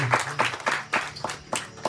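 Hands clapping in a steady, regular rhythm as a satsang audience applauds, with crisp claps about four times a second close by and nothing else over them.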